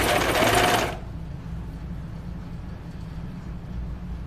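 A serger overlock sewing machine stitching knit fabric runs in a fast loud burst, then drops to a steady low mechanical hum with no talking.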